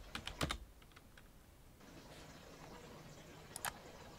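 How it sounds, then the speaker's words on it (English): Computer keyboard typing a command, a quick burst of soft clicking keystrokes at the start, then quiet room hum, and a couple more faint key taps near the end. "that's just what we're going to type,"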